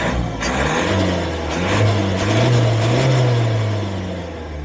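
A 2014-2019 Mazda Demio (Mazda2) with the 1.5 SkyActiv-D diesel engine runs close by, a steady low diesel drone that swells as the revs rise mid-clip, then eases back, with no talk.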